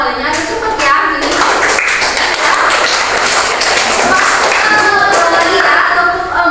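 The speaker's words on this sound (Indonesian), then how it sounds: "tepuk satu, tepuk dua, tepuk tiga, tepuk empat." A classroom of children clapping hands together in a counting rhythm game, a dense, steady run of claps filling the whole stretch with voices mixed in.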